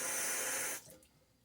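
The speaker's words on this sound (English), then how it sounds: "switch to rinsing your razor in cold water" A razor rinsed under cold running tap water: a strong, steady gush that cuts off abruptly, leaving a few faint drips and trickles, close by.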